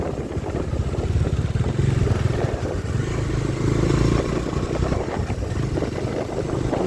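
A large Queen motorcycle engine rumbles steadily and loudly at close range in a wet, jungle-like village setting, its low chugging clatter holding throughout with no talk over it.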